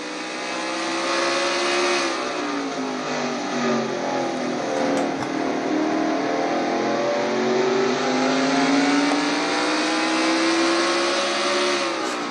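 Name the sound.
race car engine revving through turns, Castrol GTX Cup race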